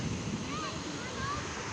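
Sea waves wash onto a beach in a steady, broad roar with wind buffeting the microphone, and faint whistling tones drift through the surf noise.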